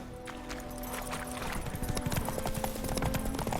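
Horse hooves clip-clopping at a steady trot in the video game The Witcher 3, a rhythmic run of close hoof strikes over a faint sustained ambient tone.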